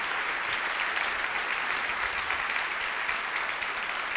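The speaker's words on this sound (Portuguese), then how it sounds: "Você pode aplaudir mais forte ao Senhor?" Sustained applause from a large church congregation during a sermon, steady and dense clapping throughout, heard without any talking.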